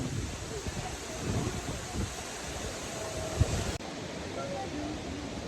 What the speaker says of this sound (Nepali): झरनाको हावाले उडायो मेरो कपाल।